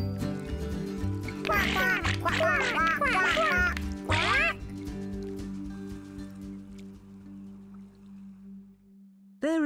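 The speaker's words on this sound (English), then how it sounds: "Quack," A cartoon duck in a children's show quacks in a quick series of loud, close, nasal calls in the first half, over a soft musical background that then fades to a steady tone.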